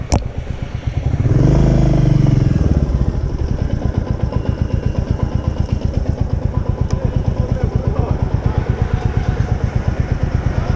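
A Royal Enfield motorcycle stuck in sand revs loudly up close, then settles into a fast, steady thumping idle that chugs on without pause.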